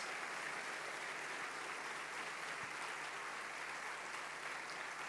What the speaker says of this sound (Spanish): nosotros le vamos a dar un fuerte aplauso